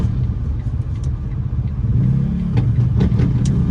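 Four-stroke Kawasaki and Yamaha motorcycles riding by on a Kensington, Philadelphia street, a loud, steady, low engine rumble that swells into a revving drone as they pass close, with no talking.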